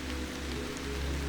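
Steady rain falling on a surface, a dense even patter that stays constant and close throughout with no voices.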